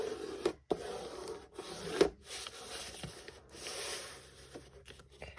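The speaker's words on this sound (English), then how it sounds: "I'm going to trim it again so that the other pocket is open as well" Junk mail paper is trimmed for a journal pocket, with close, dry rubbing and scraping strokes broken by a few brief clicks and short pauses.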